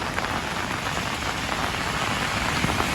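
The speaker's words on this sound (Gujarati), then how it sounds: "વરસાદ તો બહુ જ પડે છે" Heavy rain pours down steadily, a dense, even hiss of drops hitting surfaces close by with no break.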